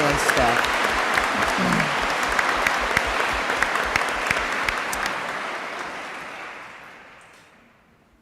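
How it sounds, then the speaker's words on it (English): A large commencement audience at the University of Maine at Machias applauds faculty and staff: dense, sustained clapping across the hall that gradually fades away, with a brief spoken word at the start. "So let's do a round of applause for all of those faculty and"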